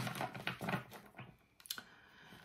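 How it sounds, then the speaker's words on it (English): Tarot cards are shuffled in quick, soft riffling clicks and rustles, close and fairly quiet, in short irregular bursts with no talking. "I'm just constantly shuffling."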